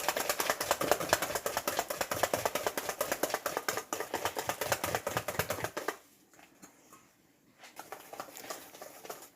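A spoon works frangipane batter in a bowl in fast, rhythmic scraping strokes, close and loud for about six seconds, then pauses before softer stirring resumes.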